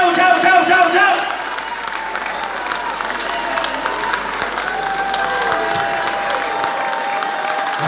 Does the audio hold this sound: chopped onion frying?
no